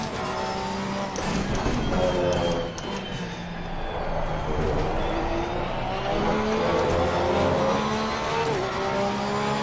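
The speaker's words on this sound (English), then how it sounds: "I keep on hitting the rev limiter" Race car engine in Assetto Corsa Competizione at Laguna Seca, droning loud and steady with repeated bouncing against the rev limiter, harmonic whine rising and falling throughout.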